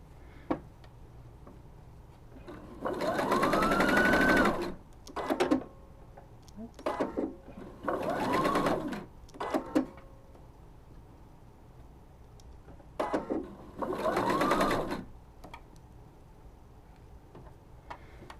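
Sewing machine stitching a 5/8 inch seam on a scarf wrap, running in three separate bursts of a few seconds each with quiet handling and brief clicks between them.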